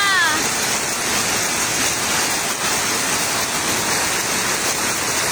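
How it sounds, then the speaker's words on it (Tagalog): Heavy rain pours down during a flood in Manila in a dense, constant roar of rushing water, loud and unbroken from start to finish. "Ay, ang lakas ng ulan."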